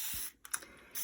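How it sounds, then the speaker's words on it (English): A spray mister bottle spritzing lightly over an art scribble, a couple of soft quick hisses and clicks in a quiet room. "all I'm going to do is spray lightly with this mister"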